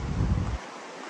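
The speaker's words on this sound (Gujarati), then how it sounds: "પવન બહુ વધારે છે, તમને અવાજ સંભળાતો જ હશે." Strong gusty wind buffets the microphone outdoors, a loud low rumble for about half a second that then drops away, leaving a steadier, quieter airy wind hiss with no talking.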